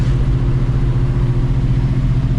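A motorcycle ridden by a helmeted rider passes on the road near the yellow line, giving a steady, loud engine drone with strong low hum throughout and no speech.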